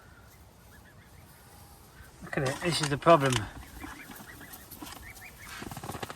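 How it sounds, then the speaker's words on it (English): A waterfowl on a carp fishing lake gives a short burst of loud honking calls, close by, with someone talking quietly before and after it. "there's a duck dove down"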